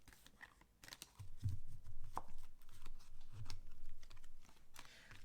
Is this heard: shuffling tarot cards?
yes